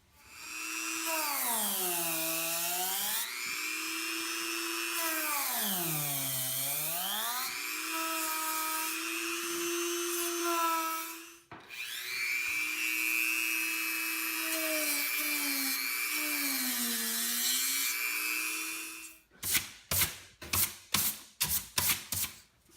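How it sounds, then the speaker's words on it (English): A power sander works on foam for a prop build, whining loudly with its pitch repeatedly sagging and rising under load, pausing once midway, then ending in a series of short bursts. "I'm down on the sander"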